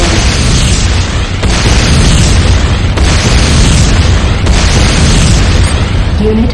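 A destroyed structure explodes in Renegade C&C, a loud, sustained roaring blast with repeated bursts and rumbling debris that fill the whole stretch without letup.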